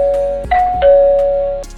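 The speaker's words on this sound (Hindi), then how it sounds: "तभी बाहर खड़ी मिसेस यून फिर से डोरबेल बजाती हैं।" A doorbell chimes several times in a row, each ring a clear, steady electronic tone of the kind used as a stock sound effect, with no voices at all.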